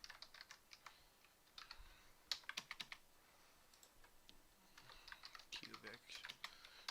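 Quiet, steady typing on a computer keyboard while entering a regression query into Wolfram Alpha, with rapid clusters of light key clicks and brief pauses, heard alone without talk.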